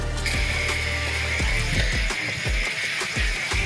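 A hand pump sprayer is pumped in repeated mechanical strokes with clicking, ratchet-like sounds and a steady hiss underneath, close to the microphone.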